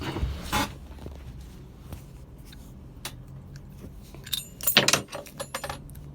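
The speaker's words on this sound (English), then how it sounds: "the first thing we gotta do is find a key that fits properly in here" Metal keys jangle and scrape near a Honda motorcycle ignition as one key is tried in the lock, with scattered clinks, a louder rattling burst near the end, and no talking.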